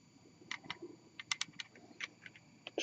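An e-pipe's tank being unscrewed from its mouthpiece and 510 connection, heard as a quiet series of small sharp clicks and ticks in an irregular rhythm, close by, with a slightly louder click at the end.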